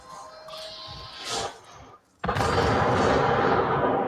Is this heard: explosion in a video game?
yes